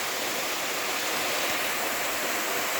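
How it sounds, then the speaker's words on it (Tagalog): A waterfall pours in a steady, dense rush of broadband water noise, close and constant without any break. "Ayan ang waterfalls."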